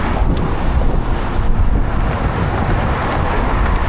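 Loud, steady roar of passing traffic mixed with buffeting wind on a busy bridge, heard while riding a bicycle on a ride from San Francisco to Monterey; continuous and close, with no talk.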